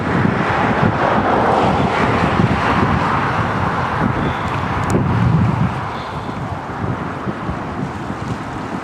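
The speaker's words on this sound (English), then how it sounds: "Very windy." Strong wind in the Trossachs, Scotland, buffets the microphone in a constant, loud roar, with a broad rumbling rush that eases slightly toward the end.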